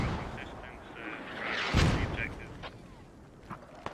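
Mortar shells land in the military shooter Squad: a heavy impact booms at mid-distance, followed by lighter rumbles and scattered distant thuds while a player talks over the fire.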